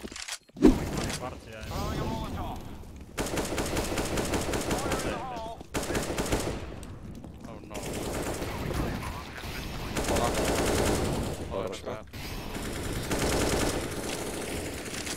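Rapid automatic gunfire from a video game rattles in long sustained bursts separated by short pauses, loud and close, with players talking over the shooting.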